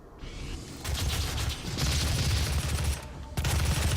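Gunfire in the video game Doom 2016 on PS4 at Ultra Violence difficulty, a dense sustained rattle of shots with a brief gap near the end before firing resumes, loud and continuous, with no talking.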